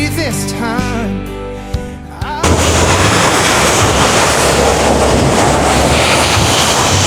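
A river at a swimming park rushes loud and broadband after a brief stretch of background music, its current roaring steadily close to the microphone.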